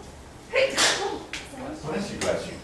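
A sharp, abrupt sneeze in a university lecture hall during a physics class, one loud burst followed by people speaking nearby.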